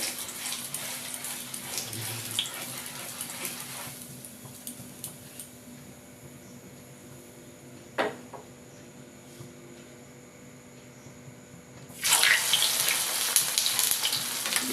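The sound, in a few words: rose petals frying in hot oil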